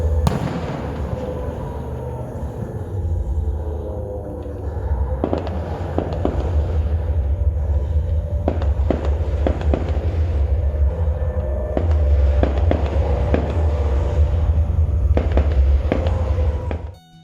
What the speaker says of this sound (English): a complete reenactment of the battle over the River Kwai took place with drones as airplanes and fireworks as gunfire